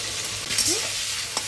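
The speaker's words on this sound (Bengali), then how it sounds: "তেলটা গরম হয়ে গেছে, বেগুনটা দিয়ে দেবো অল্প হলুদ" Brinjal pieces frying in hot oil with turmeric and salt on a gas flame, a steady close sizzle with a few stirring scrapes, no voices.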